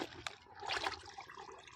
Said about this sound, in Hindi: और इनको हम पानी में भिगो रहे हैं 24 घंटे के लिए।